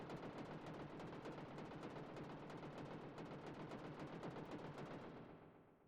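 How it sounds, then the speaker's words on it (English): A bomb blast in the 16-bit Super Famicom game Dragon Quest 3, heard as a steady, rapid, pulsing burst of noise that crackles for about five seconds and then fades out, with no voices. "Oh, it's just a bomb."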